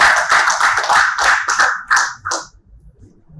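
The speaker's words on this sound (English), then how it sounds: "A warm round of applause for Mr. Narayanan." A small audience at a financial talk in Chennai gives a brief round of applause, close, distinct claps in quick rhythm that thin out and stop after about two and a half seconds.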